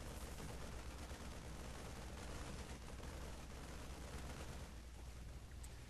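Siege tanks firing in a StarCraft 2 battle, a dense, continuous barrage of booming shots and rumbling impacts at low volume, with no voices.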